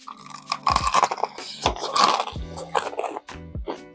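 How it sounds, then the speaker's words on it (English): Crunchy bites into fried chicken drizzled with hot honey, loud and close, a series of sharp crackling crunches followed by wet chewing, with no talking. "that was a hell of a crunch, wasn't it?"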